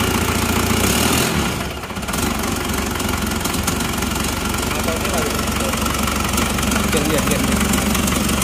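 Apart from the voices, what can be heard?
engine started and idling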